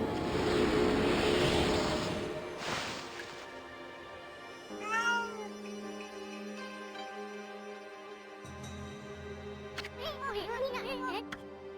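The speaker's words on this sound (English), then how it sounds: "so this cat must be pretty hungry." Hungry cat in Okami meowing a few times, with clear drawn-out meows rising above a quiet game music background and a low ambient hum.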